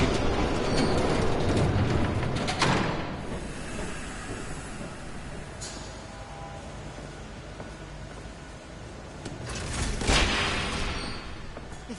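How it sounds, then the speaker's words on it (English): A train rolls past in a video game, a loud rumbling and clattering that swells at the start, eases through the middle and surges again toward the end, with no speech. "There's a train coming."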